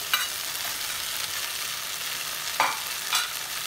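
Chicken stir-frying in a pan for simple chicken noodles, a steady hiss of sizzling oil with a few sharp scrapes of a spatula, close and alone with no talking.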